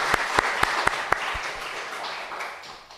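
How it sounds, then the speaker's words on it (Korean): A church congregation applauds at a tenth-anniversary worship service, steady clapping from many hands with a few sharp, close claps at the start, holding for about three seconds before thinning and fading toward the end. "우리 1세대 장로님, 안수 집사님, 권사님, 집사님들께 박수 한번 합시다."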